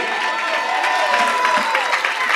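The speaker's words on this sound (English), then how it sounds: "Let's give the Lord a hand clap of praise." A church congregation claps their hands together in praise, making a sustained, lively wash of applause that fills the room and continues steadily throughout.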